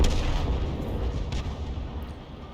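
Artillery shells firing and striking in a tank video game, a loud, steady rumble of booming fire with no talking.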